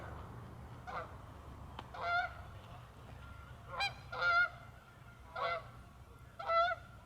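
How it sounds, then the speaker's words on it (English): A flock of geese flying overhead honk in short bursts of several calls each, spaced a second or two apart, over a low steady background hum. "bunch of geese flying over."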